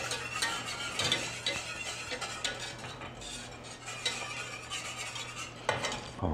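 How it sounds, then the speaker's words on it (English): Cornstarch slurry stirred into hot roast beef juices in a pan, a busy clatter of utensil scraping and light sizzling throughout, with a few sharper knocks, close and fairly quiet, no talk. "I'm just going to pour this down in while stirring."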